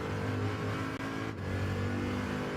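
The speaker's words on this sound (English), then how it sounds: "I'm gonna stop revving it." A race car engine in Gran Turismo 7 holds a loud, steady high-rev drone, close and continuous with a brief dip just before the one-second mark.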